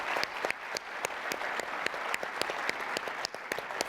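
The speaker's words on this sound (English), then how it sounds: "So let's give them a round of applause." Audience applause at a corporate awards ceremony, a steady wash of many hands clapping with a few sharper, closer claps standing out throughout.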